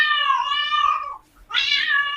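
A house cat gives two loud, close meows, the first long and drawn out, then a short pause before a second bright, rising meow.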